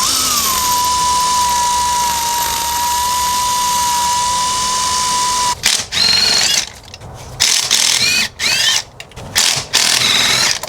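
Carbon is cleaned off old car spark plugs with a power tool, a steady high whine running for several seconds, then stopping and giving way to choppy, uneven scraping and rubbing bursts, loud and close.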